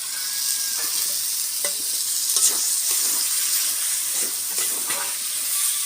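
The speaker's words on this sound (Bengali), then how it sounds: "এবার আমি এখানে গোলমরিচ আর লেবু মাখানো চিকেন কিমাটা দিয়ে দেবো" Chicken mince coated with black pepper and lemon fries in spiced oil, giving a steady loud sizzle with intermittent stirring scrapes and clicks close by.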